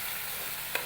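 Chicken meat fries in a pan with a steady hiss, a brief scrape of stirring near the end, close and continuous with no voices.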